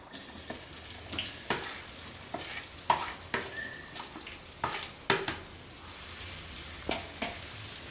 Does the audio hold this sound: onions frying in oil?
yes